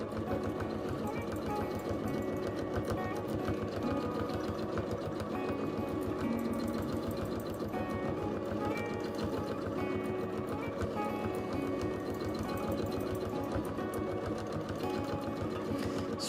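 Domestic sewing machine runs steadily for free motion quilting of curly feather border designs, a continuous close rapid needle chatter and motor hum without pause.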